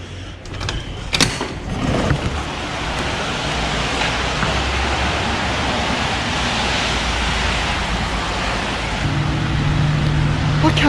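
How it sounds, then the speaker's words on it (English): Road traffic in Byron Bay makes a steady wash of passing-car noise, a broad constant rush with a few nearby clunks at the start, heard from close by. "I can't believe how much traffic is in Byron Bay."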